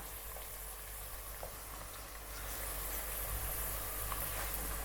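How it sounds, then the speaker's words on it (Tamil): Small onions (shallots) sautéing in hot oil in a pan for garlic kuzhambu, a steady soft sizzle and bubbling hiss that grows slightly louder midway, with no voices. "வெங்காயமும் நல்லா வதங்கட்டும்."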